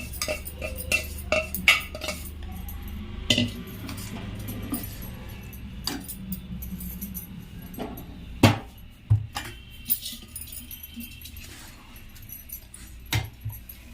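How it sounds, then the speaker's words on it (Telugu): Flour being stirred into syrup for sajja burelu in a home kitchen: a spoon scrapes and knocks irregularly against a metal vessel, with sharp clinks and taps scattered over quiet, close-up mixing and no talking. "ఇదిగో పిండి వేసి అన్నీ కలిపేసుకుందాం దీంట్లోకి."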